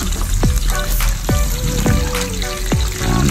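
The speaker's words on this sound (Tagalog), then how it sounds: "paliguan muna ng kumukulong mantika." Steady loud sizzle of pork leg frying in boiling oil, with a few sharp drops or clinks breaking through at regular intervals.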